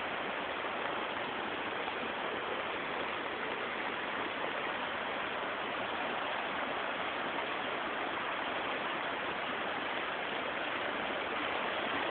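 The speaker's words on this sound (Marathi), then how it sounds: "आपण पाहू शकता रस्त्याच्या दुतर्फा पाणी वाहत आहे" Floodwater rushing along both sides of a road during the Mushet flood, a constant, loud, even roar of flowing water with no breaks and no voices.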